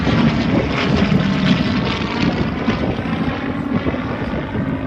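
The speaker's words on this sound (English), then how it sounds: "And there's that lovely formation of aircraft in front of us." Formation of propeller aircraft flying past at a seaside airshow in Southport, 2019, a loud, dense engine drone with rough, throbbing texture that swells and holds as the group passes near, no speech.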